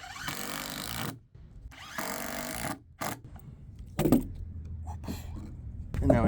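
A power drill drives a screw into a deck board that a pry bar is holding in position. The motor whirs in several loud bursts about a second long, separated by short pauses and knocks.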